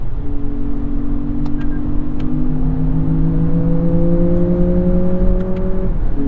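A 2023 Lexus RX in manual mode accelerating, a steady engine hum rising gradually in pitch over several seconds, smooth and fairly quiet, with no talking.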